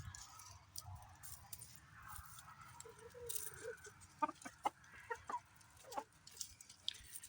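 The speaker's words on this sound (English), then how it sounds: "I know the chickens have nothing to do with the cars" Several chickens clucking softly at a distance, short scattered clucks over a low outdoor background hum.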